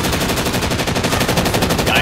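Sustained submachine gun fire in Call of Duty: Rebirth quads rattles out as a fast, evenly pulsing stream of loud shots, close and unbroken for about two seconds.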